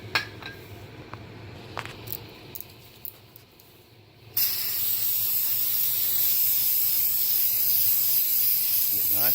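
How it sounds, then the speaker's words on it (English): Brake cleaner blasts onto the front brake rotor of a 2001 Toyota Highlander in a loud, close, sustained hiss, preceded by scattered clicks and light handling noises. "Just give it a good spray down on it and wipe it down."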